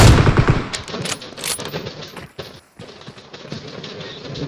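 Rapid automatic gunfire in a battle royale video game, dense bursts of loud shots rattling through the clip with a brief lull in the middle, no voices over it.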